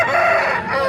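A big Tamil Nadu rooster at a Sunday hen market, a single loud, close crow stretched over under a second, its tone sliding through the call.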